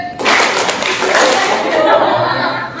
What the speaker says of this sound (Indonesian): Kalau cek tepuk tangan, kalau boom tepuk tangan kita.